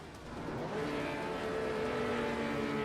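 Race car engines from a Porsche Carrera Cup esports racing game at Circuit Gilles Villeneuve rev and build steadily, a dense, sustained engine roar with a rising pitch.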